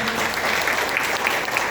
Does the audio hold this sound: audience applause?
yes